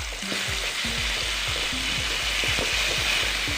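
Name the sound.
ginger garlic paste frying in a pan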